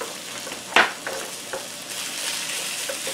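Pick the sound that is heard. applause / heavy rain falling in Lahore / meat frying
meat frying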